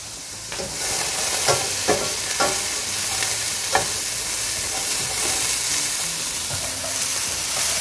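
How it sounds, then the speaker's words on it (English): Steady, dense sizzling of vegetables and green onion frying in a pan over medium-low heat, with a few soft stirring clicks and scrapes breaking through the continuous crackle. "A great sizzle"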